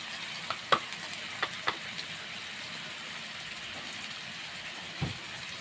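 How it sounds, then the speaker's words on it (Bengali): Spice paste of ground green chilli, garlic and chilli powder sautéed in a pan, a soft continuous sizzle punctuated by a few sharp spatula clicks and scrapes, with a duller knock near the end. "এবার ভালো করে মশলাটা আমি কষিয়ে নেব।"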